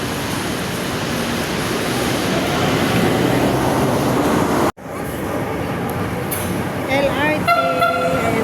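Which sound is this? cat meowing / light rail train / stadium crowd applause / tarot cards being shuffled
light rail train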